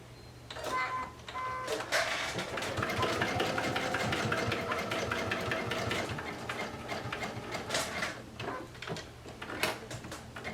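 A sewing machine stitches loops down onto a sunflower swim top, running in a fairly steady, close mechanical chatter with small stops and a few clicks near the start and end.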